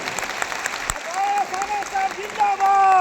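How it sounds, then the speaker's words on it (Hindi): Crowd applause greeting guests on stage at a Babasaheb Ambedkar Jayanti rally in Chhattisgarh, steady clapping with voices and shouts mixed in. "जोरदार तालियों से स्वागत करो आप लोग"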